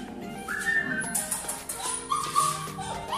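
A German Shepherd offered for sale in Egypt whines and whimpers in high, thin bursts, with a few yips. The cries come and go at a modest, fairly faint level.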